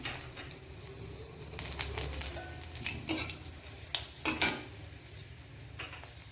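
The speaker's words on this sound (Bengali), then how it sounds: "এখন আমি আম ডালটা ফোড়ন দিয়ে দিচ্ছি। প্রথমে শুকনো লঙ্কা দিয়ে দিচ্ছি" Dried red chillies crackling in hot oil as a tempering for mango dal, a bright sizzle broken by several sharp pops and utensil clinks, close and fairly loud, with no speech.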